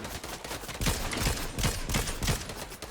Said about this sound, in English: Oh, I'm getting shot here.